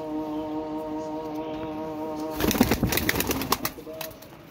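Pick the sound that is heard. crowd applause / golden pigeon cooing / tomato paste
golden pigeon cooing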